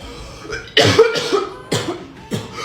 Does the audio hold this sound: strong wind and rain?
no